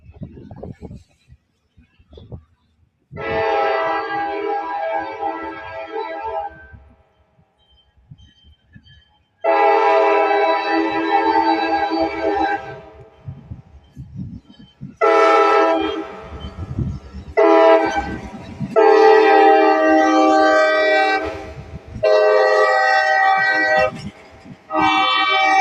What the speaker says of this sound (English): If there's a train coming, so let's see. It's a short train.